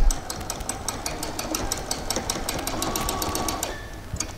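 Sewing machine stitching fabric for a short garment, a fast, even mechanical chatter of the needle running steadily for about four seconds, then slowing and stopping.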